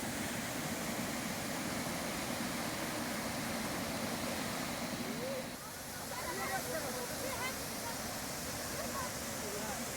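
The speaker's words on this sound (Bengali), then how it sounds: "পাথর ছাপিয়ে অনবরত বয়ে চলেছে জল।" Continuous rushing of a mountain stream pouring over and around stones, a steady broadband wash of water that stays loud and even throughout, with a brief dip midway and faint birdlike chirps near the end.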